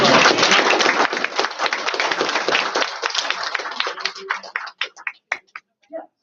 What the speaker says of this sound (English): So let's give a round of applause for